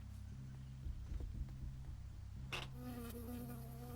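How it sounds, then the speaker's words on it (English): A bee buzzes in the Firewatch video game, a thin droning hum over low ambient game tones, followed by a sudden sharp game sound effect and a brighter sustained tone. "I got stung by a bee, but I got an achievement."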